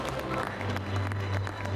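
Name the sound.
audience applause for award winners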